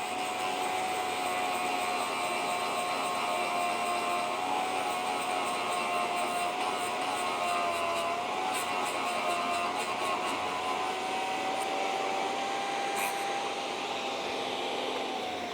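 A bench drill bit sharpener grinds a drill bit, giving a steady, loud, continuous whine with a slowly wavering tone that runs unbroken throughout, with no talking.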